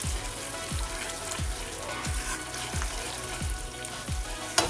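Turmeric, chilies and spices fry in a pan for pav bhaji, giving a steady close sizzle with soft low knocks recurring at an even pace, alone without talk.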